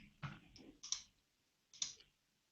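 A few sharp computer mouse clicks on a desk, close and quiet, in a sparse pattern: one click, a quick pair, then another after a pause, with near silence between.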